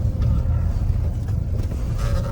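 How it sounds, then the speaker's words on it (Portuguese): A Caoa Chery Tiggo 7 Pro gives a continuous low engine rumble while driving, heard from inside the cabin with steady road noise. "Olha o ronco do motor, tanto que muda."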